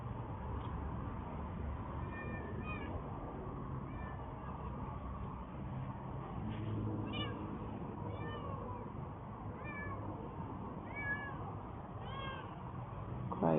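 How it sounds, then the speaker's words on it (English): A male cat meows and cries repeatedly in a series of drawn-out calls spread through the clip, with no talk over them and a steady low background noise beneath. "You're just a cat crying for help"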